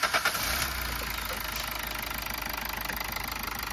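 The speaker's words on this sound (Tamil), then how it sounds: "இப்போ வண்டி ஸ்டார்ட் பண்ணுறேன்." A Toyota Altis diesel car engine, just after the fuel line has been bled during fuel pump repair, catches with a few quick cranking bursts and then settles into a steady, rhythmic, knocking diesel idle close by.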